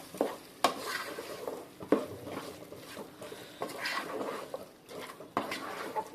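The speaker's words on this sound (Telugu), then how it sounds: "ఇప్పుడు కలుపుదాం." Gongura chicken fry being stirred in hot oil in a pan, with a steady sizzle and repeated scraping strokes of a spoon against the metal, close and moderately loud, with no talking.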